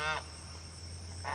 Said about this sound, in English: Nothing like a mad goose or a mad duck.